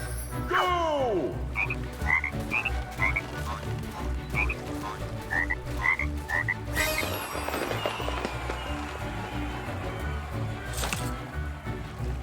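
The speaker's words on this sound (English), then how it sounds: "I mean, they're frogs. Can't they swim?" Frogs croak repeatedly in the LEGO Party video game, a run of short, close calls with game sound effects and music around them.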